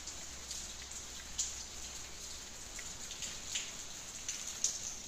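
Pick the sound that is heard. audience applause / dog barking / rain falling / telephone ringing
rain falling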